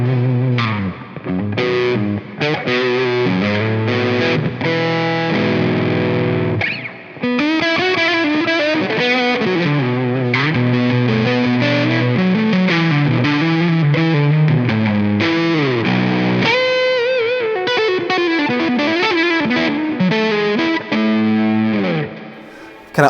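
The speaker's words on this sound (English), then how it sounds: "if you go to a brighter distortion that doesn't get as muddy, you can still have that real smooth top end." Baritone-converted electric guitar, a standard-scale instrument restrung for low tuning, played through bright distortion with effects, loud sustained riffs and bends ringing out alone with no talk.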